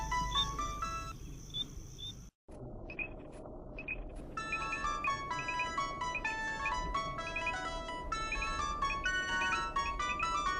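A phone ringtone plays a melodic electronic tune, loud and repeating. It cuts off briefly, then starts again and carries on steadily.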